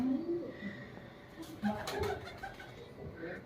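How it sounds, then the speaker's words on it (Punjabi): Pigeons gathered together in a loft, giving soft, low repeated coos close by, with light rustling and scattered background noises between the calls. "ਇਹ ਗੱਗੇ ਵਜੀਤ ਕੇ ਦੇ ਕਬੂਤਰ ਨੇ ਹੈ ਤਾਂ ਸਾਰੇ ਇਕੱਠੇ ਨੇ"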